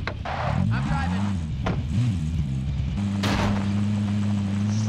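A vehicle in the Warzone video game drives with a loud, steady engine drone that shifts pitch as it revs and settles, and a voice talks over it.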